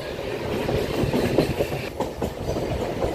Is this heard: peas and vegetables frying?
no